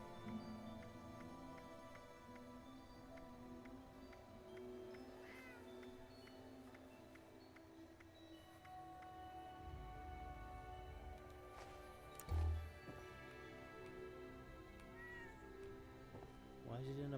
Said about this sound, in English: He's still there meowing.